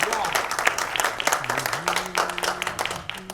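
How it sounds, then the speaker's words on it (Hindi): An audience at an album launch event applauds in a steady burst of clapping, with a voice talking over the applause. "एक बार जोरदार तालियां उमेश सर के लिए।"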